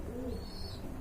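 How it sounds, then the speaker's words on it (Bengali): Pigeons coo at a pigeon sale, giving a soft, brief call over low background murmur with a faint higher chirp. "এই যে দেখেন বিগ সাইজের কবুতর"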